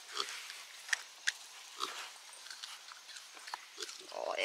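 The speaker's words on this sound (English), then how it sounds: "I'm gonna go out and feed some leftovers to some pigs" Pigs grunting and snuffling as they eat leftovers, a run of short, close grunts and snorts at moderate volume with steady rustling between them.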